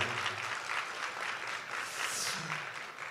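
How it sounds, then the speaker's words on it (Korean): Faint applause from a church congregation at an Easter worship service, a steady wash of clapping heard from a distance for about three seconds. "부활하신 하나님께 우리 영광의 감사의 박수 올려드리겠습니다."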